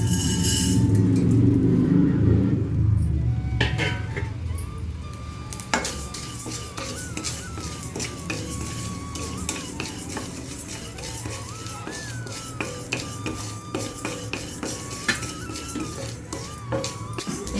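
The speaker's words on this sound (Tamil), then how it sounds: "இந்த ரெண்டு டேபிள் ஸ்பூன் உளுந்து பருப்பை இதில் சேர்த்துக்கலாம்" Two tablespoons of urad dal roast in a pan with sesame seeds on the stove while a spoon stirs, giving repeated scraping and clinking of metal against the pan over a steady sizzling hiss, close and continuous.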